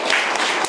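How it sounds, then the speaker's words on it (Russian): Hard hand claps during a qigong exercise: three sharp, close claps in quick succession, spaced roughly a third of a second apart. "Хлопайте посильнее."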